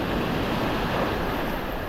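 Ocean waves rush and break continuously against the shore at a fishing spot, a broad wash of surf mixed with wind noise on the microphone, with no voices.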